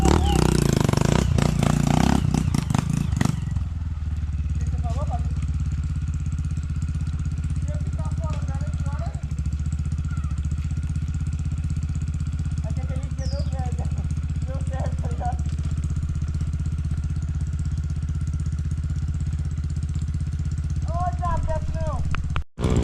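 Motorcycle engine running steadily in the rain with a continuous low rumble throughout, opening with a louder, denser stretch of engine noise in the first few seconds, while a voice talks faintly under it at intervals.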